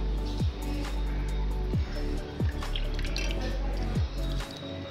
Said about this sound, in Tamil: கொஞ்சமா எலுமிச்சம்பழம் பிழிஞ்சு விட்டுக்கோங்க.